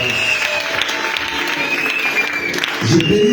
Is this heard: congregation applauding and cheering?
yes